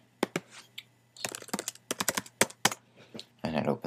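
Computer keyboard keys are pressed in quick irregular bursts, sharp close clicks with short pauses, ending in a denser rattle.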